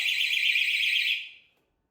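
A very loud door stop alarm shrieks with a piercing, steady high-pitched tone for just over a second, then fades out quickly into silence.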